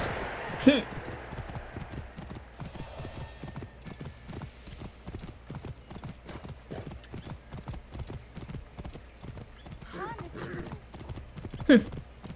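Horse hooves clip-clop steadily at a walking pace in Assassin's Creed Origins, close and rhythmic throughout, with a couple of brief whinnies and someone talking over the hoofbeats.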